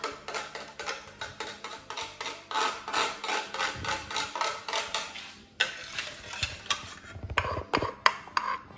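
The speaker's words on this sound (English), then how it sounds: "Spoon, just to get the lemon zest out. A tap." A spoon knocked against a grater or bowl to free lemon zest, giving quick bright metallic taps and scraping clinks in a steady run, with a few heavier knocks near the end.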